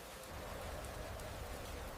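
Quiet, steady rain on a rainy afternoon outside a café, an even soft hiss with faint drops and no voices.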